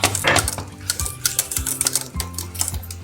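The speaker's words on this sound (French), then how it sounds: "Voilà, on rajoute le brocoli dedans" Broccoli is stirred into a thick béchamel sauce in a pot, with a metal utensil scraping and clanking against the pan in busy, irregular knocks and soft wet stirring, close and fairly loud.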